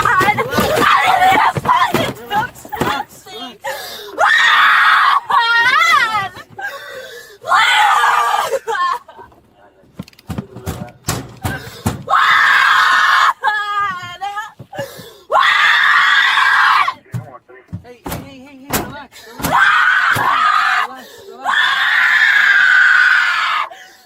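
A woman screams repeatedly during an arrest, loud anguished bursts and wails alternating with short gaps and gasping, close to the microphone.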